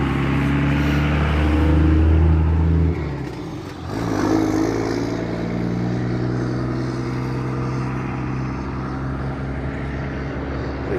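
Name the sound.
vehicles driving past on a road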